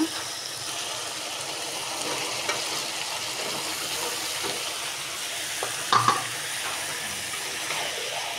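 Cooked-down meat with freshly added chopped vegetables frying in a small wok, with a soft continuous sizzle and the scrape and clatter of a spatula stirring, a few sharper knocks near the middle.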